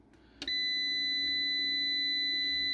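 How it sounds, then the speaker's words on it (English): A sharp click followed by a steady, piercing electronic beep from an MPP Solar LV2424 inverter that sounds continuously at close range without pause. "I'll show you how to turn off the annoying beep too."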